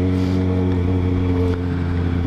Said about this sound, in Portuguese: E eu tô sentindo a lenta da minha moto um pouco mais alta, né?